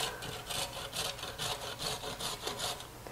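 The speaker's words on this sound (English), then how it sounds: "Going to take a box grater and use the biggest side," A carrot being shredded on the largest side of a box grater, with rhythmic rasping strokes repeating about every half second, close and fairly loud with no talk.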